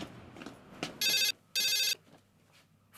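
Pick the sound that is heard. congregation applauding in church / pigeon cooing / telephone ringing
telephone ringing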